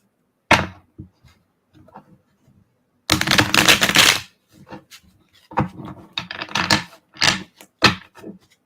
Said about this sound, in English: Oh, I get to shuffle these today.